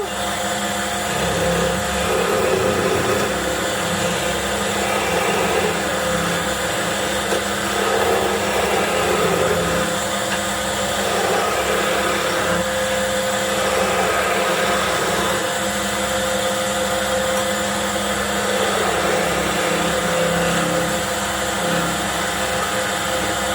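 A wood lathe turning a wooden Harry Potter wand gives a loud, steady whirring drone that runs unbroken from start to end.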